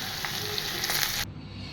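Sliced okra fries loudly in a pan with oil, a close, bright continuous sizzle that cuts off abruptly near the end, leaving a faint quiet hiss.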